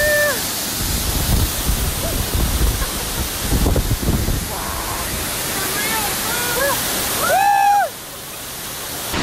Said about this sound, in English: We just got pretty wet walking by this waterfall